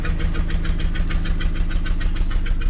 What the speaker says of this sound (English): It seems to rev up okay